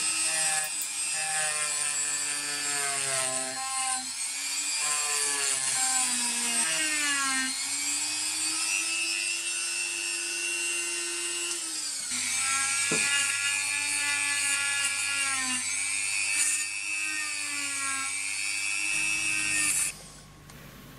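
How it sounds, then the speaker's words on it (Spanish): A continuous high, whirring grind of a wire brush scrubbing rust from galvanized sheet metal, its pitch rising and falling as it works, loud and close, ending suddenly. "Para las zonas donde no llega la lija, uso el cepillo de alambre."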